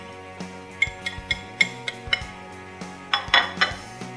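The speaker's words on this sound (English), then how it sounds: "Mix it together really well so you have a nice even mixture" A spoon clinks against a bowl while dry tea leaves are mixed with onion powder, thyme and cayenne pepper, giving a string of light metallic taps in an uneven rhythm over a steady background hum.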